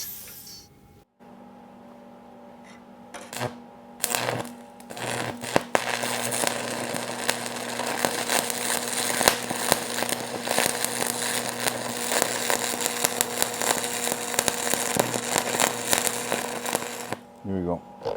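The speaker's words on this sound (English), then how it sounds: "I'm using Inconel stick rod to weld the stainless steel to the carbon plate." Stick welding with Inconel rod joins stainless steel bolts to a carbon steel plate, giving a loud continuous crackle and sizzle that runs for most of the stretch after a few short strikes.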